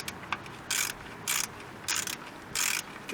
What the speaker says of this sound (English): get your ratchet, your hex bit, snug it in all the ways